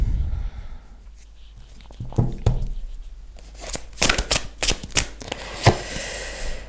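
Tarot cards are shuffled and handled during a reading. After a quiet start come bursts of quick, papery flicks and taps, close and fairly loud.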